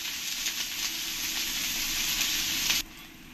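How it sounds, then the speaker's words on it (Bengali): Chopped onions frying in oil with dried chillies and curry leaves, a loud continuous close sizzle that drops off abruptly near the end, with no talk. "এবার আমি এর মধ্যে কাঁচা পেঁয়াজ কুচিয়ে রেখেছিলাম সেটা দিয়ে দেবো।"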